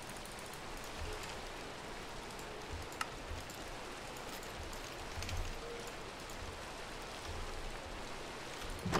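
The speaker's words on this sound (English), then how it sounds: "And now it's raining?" Rain falls in the Minecraft video game as a soft, even hiss of drops with faint scattered ticks, steady and quiet throughout, with no talking over it.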